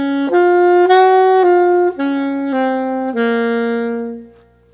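A woodwind plays a short stepwise phrase of a few separate sustained notes, each clean and tonal, the last one held longer before it fades out.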